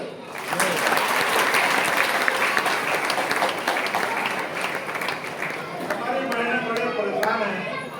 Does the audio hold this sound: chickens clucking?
no